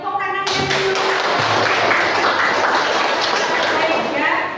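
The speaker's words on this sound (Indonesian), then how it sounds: "Oke, tepuk tangannya dulu." Students clap together in a classroom, a loud, dense burst of applause that starts abruptly and holds steady for several seconds, with a few voices mixed underneath.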